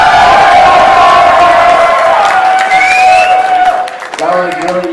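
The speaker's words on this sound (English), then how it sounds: "So I'm not gonna start until you guys are screaming like crazy." A large live audience at a StarCraft 2 esports showcase screams, cheers and whoops loudly and continuously, a dense roar of many voices that dips briefly near the end before swelling again.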